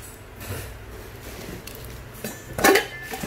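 A metal cooking pot, listed as 21 across with an 8 cm deep interior and weighing about 1 kg, gets handled, giving a few soft knocks and then one sharp metallic clank near the end.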